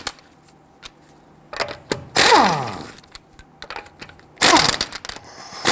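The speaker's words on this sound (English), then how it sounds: "Using a 21mm socket, loosen and remove your lug nuts." Lug nuts on a 2008-2013 INFINITI G37 broken loose and spun off with a 21mm socket on an impact tool: sharp clicks, then two loud ratcheting, whirring bursts separated by quieter metallic taps.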